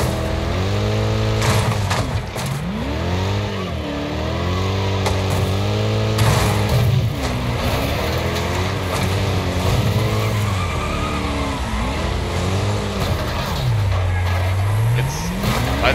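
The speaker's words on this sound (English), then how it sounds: "My car is in all kinds of turmoil." A badly damaged demolition derby car in the racing game Wreckfest strains its engine, the revs rising and falling in uneven swoops under constant tire skidding and squeal, loud and close, with other cars roaring around it.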